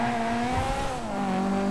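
Engine of a yellow Dinka Blista Compact, a cheap compact car in a video game, droning steadily and loudly at close range with a slight pitch dip midway and a faint tire squeal.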